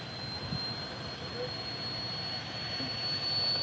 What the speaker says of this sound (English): So that sound is coming from one of those either methane tanks or possibly some of those larger tanks,